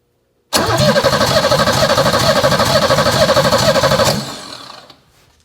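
A BMW 325e engine cranks without spark: the starter drives a rapid, even, rhythmic churning for about three and a half seconds, close and loud, then cuts off and the sound fades quickly. The engine never catches.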